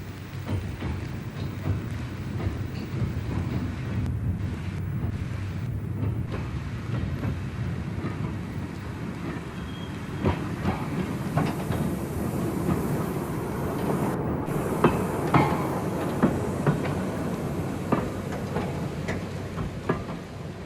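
Replica Stephenson Planet steam locomotive running with its train, a steady rumbling roll with rhythmic clicks and clatter of wheels over rail joints, continuous and moderately close, no voices.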